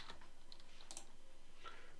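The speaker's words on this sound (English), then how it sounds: "I can just start typing in here." Quiet typing on a computer keyboard while entering data into a spreadsheet-style form, a few soft scattered key clicks with a brief cluster of sharper taps near the middle and one near the end, heard alone without speech.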